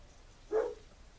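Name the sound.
dogs barking excitedly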